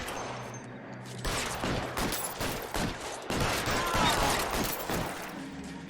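Rapid gunfire rattles in a shootout in the video game L.A. Noire, repeated shots cracking in quick irregular bursts for several seconds against a steady game background.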